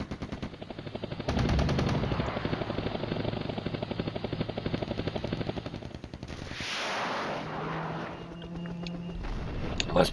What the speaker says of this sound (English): Must be one of his helicopters, I'm sure.